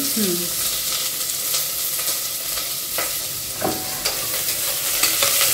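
Finely chopped onion hits hot oil already holding bay leaf and fries with a loud, steady sizzle, stirred now and then with scraping clatters.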